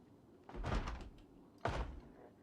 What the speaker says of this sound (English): Banging on the door.